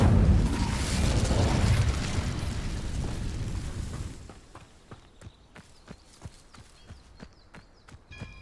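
A fire spell cast in Hogwarts Legacy bursts with a loud roaring whoosh of flame that fades after about four seconds, followed by a series of light rhythmic footsteps.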